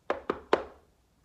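Three sharp knocks on a door, close and distinct, the last slightly louder, each ringing briefly before fading into quiet.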